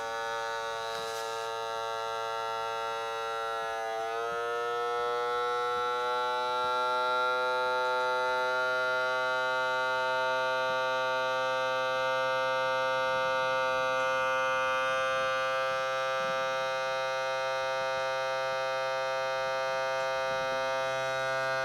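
A vacuum sealer pumping air out of a glass jar of freeze-dried eggs, a loud continuous electric whine whose pitch slides upward early on and then holds steady and tonal throughout.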